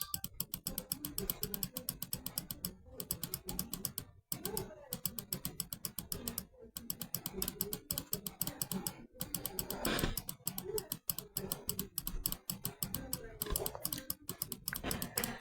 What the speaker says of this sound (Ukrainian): Ви мене чуєте вже, як я клікаю.